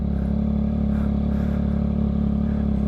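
A motorcycle's exhaust while riding during a 2022 Yamaha XSR 900 review, a continuous low engine drone with a steady throbbing rumble, close and fairly loud, with no speech.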